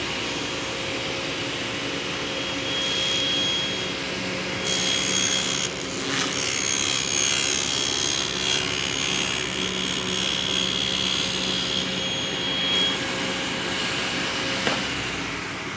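Power saw running steadily through cabinet wood to cut a kerf across the inside and bottom or back of a shop wall cabinet, a continuous loud whine with broadband noise held throughout.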